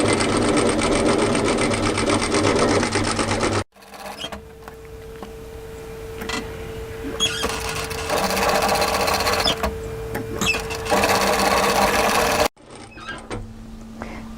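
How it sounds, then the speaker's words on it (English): A sewing machine stitches the hem of a resort kimono kaftan, running in loud, steady bursts that stop briefly and then resume for a long stretch before pausing again. No one speaks. "Stitch across, stop with the needle down, lift, turn and pivot, and go all the way back to the beginning on the other side."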